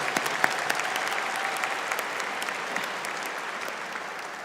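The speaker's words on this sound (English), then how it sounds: "Let's give a big round of applause for Master of Science and Finance graduates." Sustained applause from a commencement audience for Master of Science in Finance graduates, a dense even wash of clapping with no break, heard from within the crowd.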